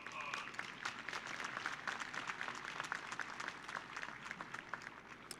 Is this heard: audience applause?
yes